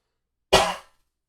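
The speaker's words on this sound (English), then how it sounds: "It's just now just more of a dry cough." A single short, dry cough, close and sharp, set against silence.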